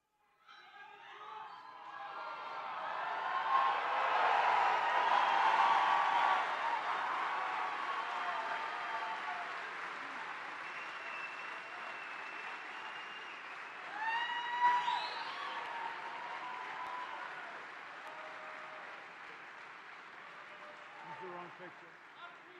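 Rally crowd cheering and applauding in a large gathering, a broad roar swelling early and then sustained, with scattered shouts and a brief rise near the end, under some talk.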